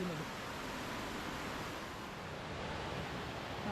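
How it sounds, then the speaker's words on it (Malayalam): Water flows steadily alongside a walking trail as a constant soft rushing wash, unchanging and fairly faint, with a voice briefly audible at the edges. "വെള്ളം ഒഴുകുന്നത്."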